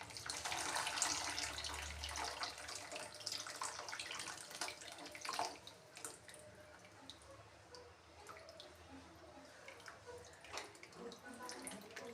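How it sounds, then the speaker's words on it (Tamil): Strained tamarind water poured into a cooking pot for a small-onion tamarind curry, a steady trickling splash that fades to scattered drips and gurgles, faint and close with no voices. "இப்போ அதை வடிகட்டி ஊற்றுவோம்."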